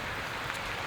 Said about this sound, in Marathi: आणि मस्त पाऊस पडतोय